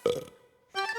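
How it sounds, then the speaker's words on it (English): Two short, exaggerated cartoon dog burps, the first a bright croak and the second a buzzier belch after a brief pause. "he never barks, but watch out when he burps."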